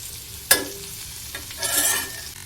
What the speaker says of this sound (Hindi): ये देखिए, हमारी अरबी अच्छे से भुन रही हैं